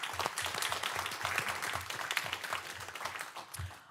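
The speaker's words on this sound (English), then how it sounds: "Let's give him a round of applause" Audience applause at a council meeting, a modest room of people clapping in a quick, slightly uneven rhythm, close and steady before tapering off, with no talk over it.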